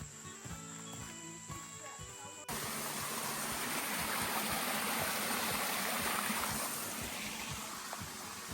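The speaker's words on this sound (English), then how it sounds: "So I can hear the waterfall, so I feel like we're pretty close." Steady rushing water of Yellow Branch Falls in South Carolina, a broad continuous roar heard from a forest trail approaching the falls, with footsteps and brief voices at the start before the water noise swells and stays constant.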